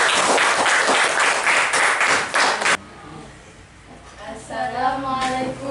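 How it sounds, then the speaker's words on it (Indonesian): Students in a classroom clap for classmates who have just presented, a burst of loud, dense applause that stops abruptly, followed by a voice speaking. "Beri tepuk tangan untuk teman kamu."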